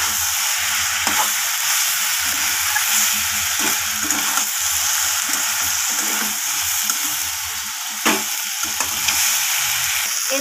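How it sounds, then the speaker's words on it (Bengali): Cumin powder and other spices sauté loudly in a pan with chicken feet and potatoes, a strong continuous sizzle with a dull knock of stirring every few seconds. "তো মশলাগুলোকে সব কিছুর সাথে ভালোভাবে আমি কষিয়ে নেব।"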